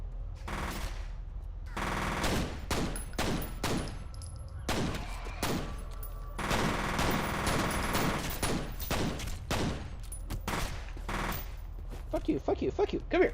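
Rapid gunfire rattles through a match of the video game Destiny in loud, closely spaced bursts and near-continuous volleys, with brief gaps and scattered clatter between the bursts.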